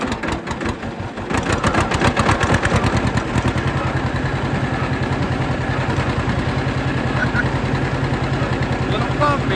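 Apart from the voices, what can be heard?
John Deere 50 tractor engine driving to the cornfield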